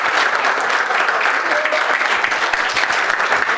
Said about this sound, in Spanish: damos ahora un fuerte aplauso a nuestras dos expositoras